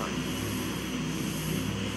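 Pilatus PC-9 aircraft fly a formation display, their engines giving a steady, broad drone that holds at even loudness throughout, with no talk over it.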